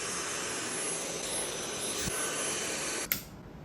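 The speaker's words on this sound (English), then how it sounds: "I'm gonna vacuum." A vacuum cleaner running on household carpet, a steady loud whooshing roar held close for several seconds before a sudden clunk and drop, likely switched off.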